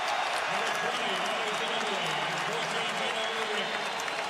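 Crowd applauding and cheering inside a basketball arena during a 2005 NBA Western Conference semifinal playoff game between the San Antonio Spurs and Seattle SuperSonics in Seattle, a steady, dense roar of clapping that holds throughout, with faint talk beneath.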